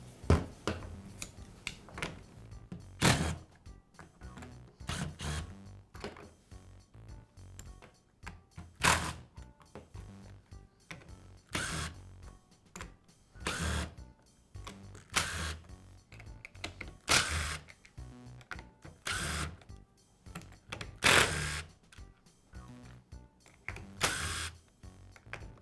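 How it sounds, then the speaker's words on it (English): Screws being removed from the plastic housing of a Black and Decker trimmer, a sequence of small clicks, ratchety ticks and sharp taps at irregular intervals, close and fairly quiet, with no voice. "Now remove the screws that secure the two halves of the housing together."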